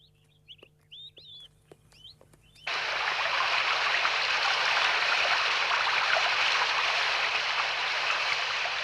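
Small stream flowing, a steady near rush of water that starts abruptly and continues loudly, preceded by a few short bird chirps over quiet background.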